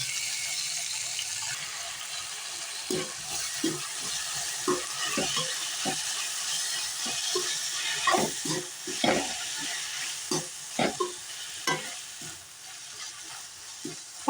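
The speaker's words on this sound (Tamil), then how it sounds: "தக்காளி நல்லா வதங்கட்டும்" Tomatoes sautéing in a pan for sardine curry, a continuous bright sizzle with soft spitting and a run of spoon clicks and taps against the pan in the second half.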